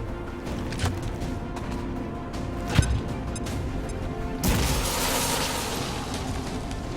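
A grenade explodes in the turn-based strategy game XCOM 2, a sharp crack followed by a sustained, loud broadband blast that rolls on to the end amid ongoing game ambience.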